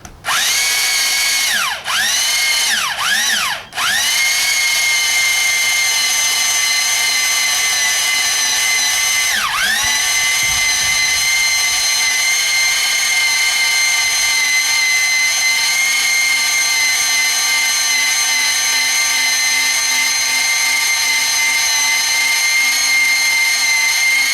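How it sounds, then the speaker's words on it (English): Electric drill whining steadily at high pitch, with a few quick stutters and pitch dips early on as the trigger is eased, then running continuously. "you can use the drill, it's much cheaper"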